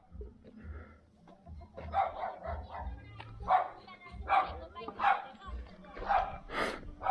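A dog that has just been hit by a vehicle on a road in Kalimpong gives a series of repeated yelping barks and whimpers, mixed with people talking nearby.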